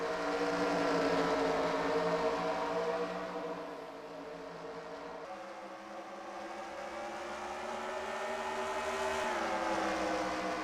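Stock-style race cars in a simulated Superstar Racing Experience event at Lucas Oil pulling away at the green flag start, a dense layered engine drone that rises, dips and climbs again as the pack accelerates, steady and moderately loud with no talk.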